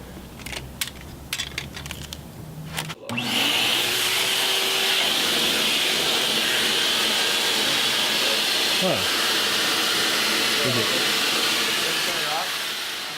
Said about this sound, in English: Right now I'm putting together a test just to see if a vacuum could potentially do the trick.